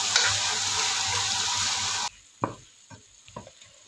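Sayote (chayote) sizzling in a hot pan for a Filipino ginisa, a loud steady hiss for about two seconds that cuts off abruptly, followed by a few scattered clinks and scrapes of a utensil.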